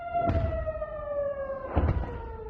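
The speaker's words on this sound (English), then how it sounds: "Rocket sirens sounded as far as Sde-Ilan, located some 21 miles from the Lebanon border" A rocket warning siren in northern Israel wails with a steady, slowly falling tone heard from a distance, broken by two dull thuds.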